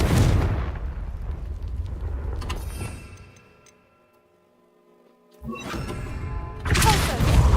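Blasts from a Confringo fire spell in Hogwarts Legacy, loud booming bursts at the start and end with a quieter gap between, over a rumbling game soundscape.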